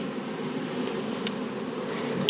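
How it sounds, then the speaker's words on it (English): Honey bees shaken off a hive frame onto a towel at the hive front, a steady close buzzing hum of many bees that holds level throughout, with a few brief sharper tones near the end. "I'm going to shake the bees off."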